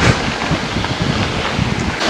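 Strong wind roars steadily across the microphone on an e-mountain bike trail ride, a dense, buffeting rush with no voices.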